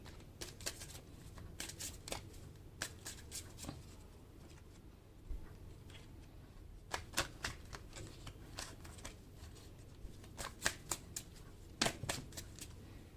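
Oracle cards being shuffled by hand in repeated quick bursts of papery riffling and slapping, close and fairly quiet, with short pauses between bursts.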